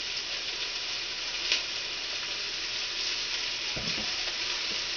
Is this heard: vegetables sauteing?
yes